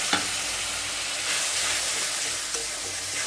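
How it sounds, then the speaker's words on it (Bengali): Spices fry in oil in a pan for a potato dum, giving a loud even sizzle throughout with a couple of faint clicks and no talking. "মশলা একদম ভালো করে ভাজা হবে"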